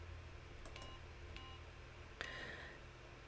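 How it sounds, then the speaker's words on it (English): A few faint, short electronic beeps and clicks from a LEGO SPIKE Prime hub with an EV3 sensor attached sound sparsely over a low steady hum, with one slightly longer tone near the end. "even though there's nothing on the sensor, it's making some beeps."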